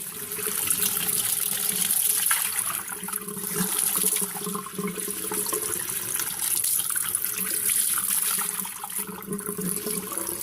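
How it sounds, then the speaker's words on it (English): Water is swirled and rinsed inside the bin of a Dyson DC33 vacuum, a steady close-up sloshing and splashing rush that rises and dips in waves without pause, with nobody speaking. "You swirl the water around in here, get it nice and wet, rinse it."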